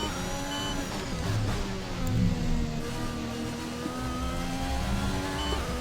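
F1 race cars from the F1 video game on the Hungary Grand Prix circuit drone past, a continuous high-revving engine whine with pitch shifts as the cars accelerate and pass, steady and fairly loud.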